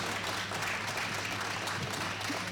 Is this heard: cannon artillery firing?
no